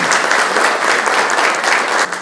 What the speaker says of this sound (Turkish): Ona biz de jestle karşılık Şöyle bir alkışlayalım arkadaşlar